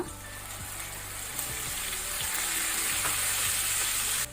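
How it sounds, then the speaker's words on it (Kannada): Onion paste sizzles steadily in a pan of hot oil over a medium flame with garlic, cooking for a paneer butter masala, with a continuous close frying hiss and occasional stirring scrapes throughout. "ಇದನ್ನು ನಾವೀಗ ಮೀಡಿಯಂ ಫ್ಲೇಮ್ ಅಲ್ಲಿ ಫ್ರೈ ಮಾಡ್ಕೊಳ್ಬೇಕು."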